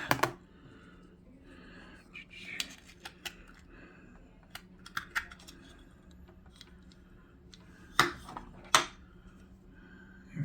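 Keys tapped on a mini keyboard plugged through an Elecife 8-port powered USB 3.0 hub, a sparse run of light clicks with two sharper, louder taps near the end, close by in a quiet room.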